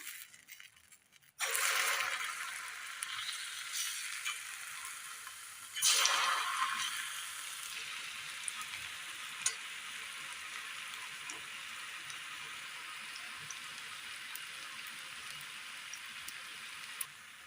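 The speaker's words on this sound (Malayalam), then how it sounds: "ഉണ്ണിയപ്പച്ചട്ടിയുടെ കുഴികളിലേക്ക് മാവ് ഒഴിച്ചു കൊടുക്കാം." Unniyappam batter hits hot oil in the wells of an appam pan, bursting into sudden sizzles that flare again with a second pour, then settle into a steady, quieter frying hiss.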